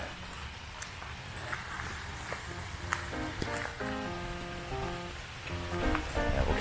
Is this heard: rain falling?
yes